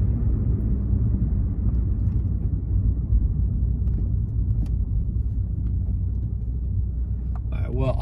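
Low, steady road rumble from inside a car stuck in traffic behind a garbage truck, a continuous heavy drone with a voice heard near the end.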